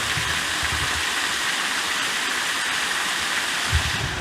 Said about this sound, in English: chill out, listen to the waterfall